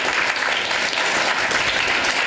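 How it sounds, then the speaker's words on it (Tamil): Full, loud audience clapping at a program, a thick unbroken patter from many hands that fills the room throughout. "ஸோ எல்லாருக்கும் ஒரு கரகோஷம் கொடுத்துருங்க."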